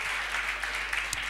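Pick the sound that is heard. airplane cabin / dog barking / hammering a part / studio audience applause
studio audience applause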